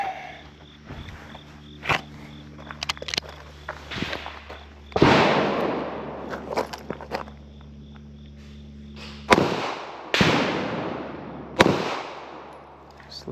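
Pistol shots at an indoor shooting range with a Tenicor VELO LUX holster, several sharp loud cracks with ringing decay, spaced a second or two apart, over a steady low hum and softer handling clicks.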